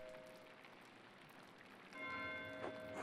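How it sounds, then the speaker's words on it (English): A church bell rings in a monastery setting in the video game Pentiment, a steady sustained tolling heard faintly behind soft pattering ambience that swells partway through. "Why is Matthew ringing the bell?"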